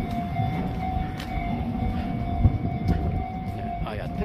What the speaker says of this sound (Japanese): 今、踏切になっちゃってるから。